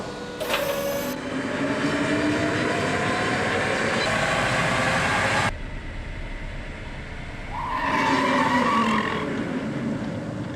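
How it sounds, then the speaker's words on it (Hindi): A Tata electric car on a roll and brake test rig makes a steady, loud mechanical whirr and roar that holds for several seconds, drops off, then swells again briefly before fading. "प्रदर्शन की जांच के लिए रोल एंड ब्रेक,"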